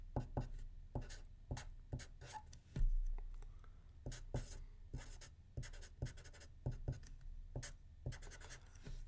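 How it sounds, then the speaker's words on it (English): Pen or pencil writing out chemistry equations by hand, close and quiet, with irregular scratchy strokes and taps continuing in uneven bursts. "The first thing I like to do is I like to write out all the equations"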